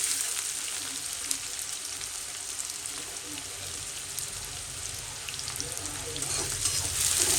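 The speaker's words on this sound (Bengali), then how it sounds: "এটাকে এরকমভাবে ফ্রাই করে নেব।" Chopped onions fry in a pan for a mint chicken curry, giving a steady, loud, close sizzle with crackling and faint stirring throughout.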